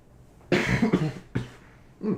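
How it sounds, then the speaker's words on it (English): Several sharp, close coughs in quick succession, then a brief pause and another cough starting at the end. "Sorry, cough."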